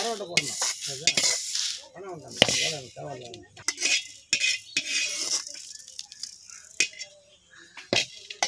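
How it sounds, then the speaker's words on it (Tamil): Fenugreek seeds dry-roasting in a pan for mango pickle, with irregular spoon scrapes, clinks and rattles over a light sizzle; a voice is briefly heard near the start. "வெந்தயமும் கொஞ்சம் போட்டு வறுத்துக்கணும்."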